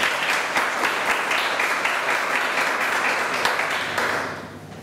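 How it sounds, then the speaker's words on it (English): Audience applause fills a room at a club meeting, steady dense clapping for several seconds before tapering off at the end. "A big round of applause."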